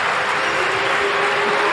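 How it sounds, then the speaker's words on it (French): Audience applause at a French university political event, a steady broadband wash of many hands clapping at once, fairly loud and continuous with no talk over it. "Il y a des gens qui applaudissent"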